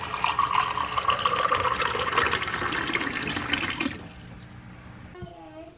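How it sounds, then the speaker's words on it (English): Four cups of water pour steadily into a measuring container for a fermented curry cauliflower brine, a loud continuous splashing stream that stops abruptly, followed by quieter room sound and a faint clink. "Measure out 4 cups of water."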